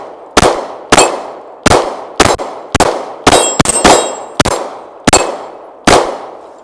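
Kiger 9C Pro pistol fired in a quick string of about eleven shots at steel targets, each sharp crack followed by a bright ringing clang, loud and close, no talk.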